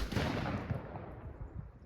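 A gunshot's boom and long rolling echo fill the clip, a dense loud blast fading gradually over almost two seconds with no speech.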